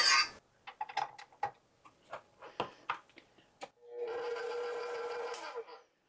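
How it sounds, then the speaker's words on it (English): A stand mixer with its whisk attachment is set to a slow speed in a kitchen. A few sharp clicks and knocks come first, then a steady mechanical whir runs for about two seconds before stopping. "Let's go ahead and put our bowl on the stand mixer. And we're using the whisk."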